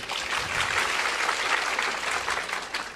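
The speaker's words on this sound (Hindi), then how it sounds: "सवाल के लिए तालियां बजाइए।" An audience claps steadily and fairly loudly for a question at a spiritual talk on God's will and sinful people, a dense continuous patter of many hands lasting about three seconds.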